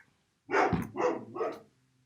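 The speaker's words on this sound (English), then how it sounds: "I don't know why the dogs are barking." Dogs bark three times in quick succession, loud and fairly close, each bark sharp and distinct. A short quiet stretch comes before the barks and a faint low hum remains after them.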